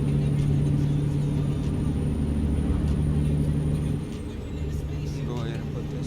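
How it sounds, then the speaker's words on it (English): A truck engine drones steadily in American Truck Simulator, a low constant rumble with a faint high whine, dipping briefly partway through as a hiss of air brake comes in, while a voice talks over it. "hopefully the truck noise is not too loud"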